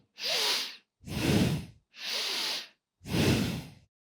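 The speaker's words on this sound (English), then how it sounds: "The third really common mistake is called collarbone breathing or shoulders breathing" Four sharp, audible breaths repeated in sequence, shallow inhales drawn into the upper chest with the shoulders lifting, each a breathy rush lasting about half a second, separated by brief silences.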